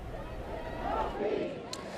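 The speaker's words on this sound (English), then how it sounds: "the crowd has not been shrinking" A large crowd of protesters gathers outside Lafayette Square in Washington, DC, near curfew during racial unrest. Their dense murmur and chatter is steady and fairly distant, with a brief sharp noise near the end.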